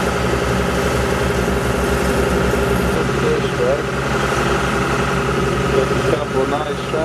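A shrimp boat motor on the Florida Gulf Coast runs at a steady idle, with a low continuous rumble and vibration, close and loud throughout, while people talk over it.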